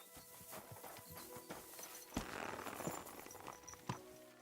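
Horse walking in the medieval video game Kingdom Come: Deliverance 2, giving soft, uneven clip-clop hoof steps with a faint snort, quiet and close with no talk.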